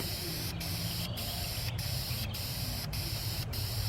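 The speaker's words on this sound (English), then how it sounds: "we just took some spray paint primer and gave it a couple coats" A spray can of primer hisses in a steady continuous blast, with brief rhythmic dips about every half second as it sweeps back and forth.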